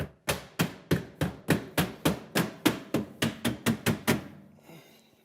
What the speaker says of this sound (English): you can use a mallet. You can see where they're actually clicking into place.